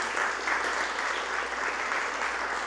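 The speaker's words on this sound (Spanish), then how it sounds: "¿Podemos darle un aplauso a Dios," A church congregation applauds together, a steady, dense wash of clapping that holds evenly throughout with no gaps.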